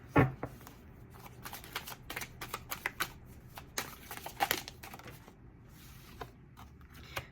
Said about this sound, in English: Let me pull another card.